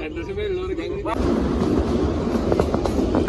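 A toy train on the hill line to Shimla runs with a dense, steady rumble and clatter of wheels that swells in loudly after a quieter opening, carrying on without a break.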